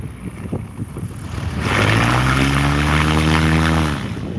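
Aviat Husky A1C seaplane on floats with a reversible pitch propeller, its engine and prop swelling from a low idle into a loud, steady roar that holds close for several seconds before easing off.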